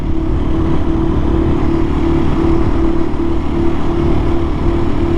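A KTM 500 EXC-F dirt bike engine runs loud and close, holding a steady, buzzy drone with a constant pitch and no break for the whole stretch.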